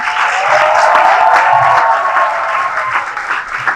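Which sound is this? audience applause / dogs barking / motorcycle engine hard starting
audience applause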